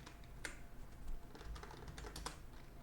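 Code being typed on a computer keyboard: quiet, steady clicking keystrokes in short irregular bursts, heard close with no talking.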